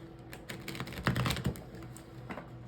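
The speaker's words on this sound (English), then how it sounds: "I've already given these all a good shuffle, but I'll give it a little bit more here." A deck of tarot cards is shuffled by hand, giving a soft, continuous papery rustle and flutter up close, with a few slightly louder riffles in the middle and no voices.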